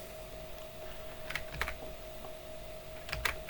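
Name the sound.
typing on a computer keyboard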